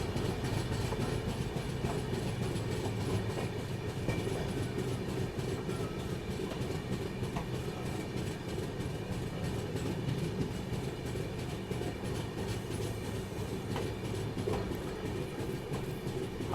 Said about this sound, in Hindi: डीजल लोकोमोटिव लीड कर रहा है इस गाड़ी को।